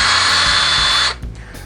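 An Ingersoll Rand D5140 20V cordless drill/driver runs steadily at low speed with a loud, even motor whine, then cuts off about a second in, leaving faint handling noise.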